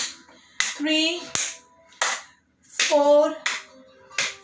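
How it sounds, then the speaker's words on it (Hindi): Hand claps during a morning yoga session for COVID-19 patients, a few sharp, evenly spaced claps in a slow rhythm alternating with a voice counting aloud over them. "धीरे से आगे पीछे ताली बजाएंगे।"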